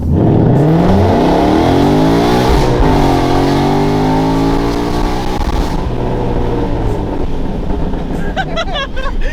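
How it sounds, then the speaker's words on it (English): A 900 wheel-horsepower car pulls hard through first gear, its engine roaring loud and close with rising harmonics that climb steadily, then dip at a shift-like break before climbing again under wind rush. "So we're gonna do a quick little first gear pull."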